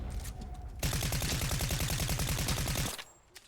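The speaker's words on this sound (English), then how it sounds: "This is an SMG, so it's not gonna be the best," A submachine gun in a video game fires one sustained rapid burst of about two seconds, loud and close, with quieter game sounds before and after.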